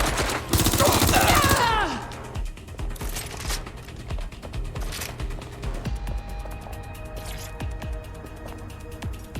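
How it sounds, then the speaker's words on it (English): Gunfire in Watch Dogs Legion, set in London, starts as a loud, chaotic burst of shots with mechanical clatter, then thins to scattered rapid pops and clicks over a steady game background. "Shit! I'm getting shot here!"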